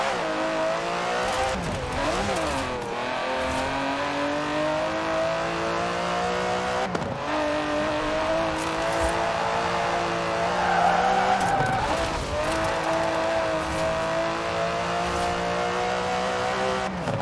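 An Aston Martin DB11 with a 5.2-litre twin-turbo V12 races in Forza Horizon 4, the engine droning and revving through gear changes, with tire squeals and skids as it corners, loud and continuous.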